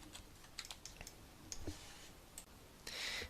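Quick light clicks of a computer mouse and keyboard while working in 3D software, sounding close and faint in a quiet room.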